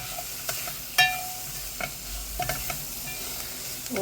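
Hing and spices for dal tadka sauté in a pan, making a soft, quiet sizzle with a few light stirring clinks and scrapes close by.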